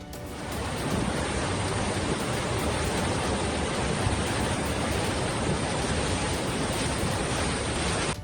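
Iguazu Falls at record high water roars as a dense, unbroken rush of falling water. The sound is loud and constant after a brief fade-in.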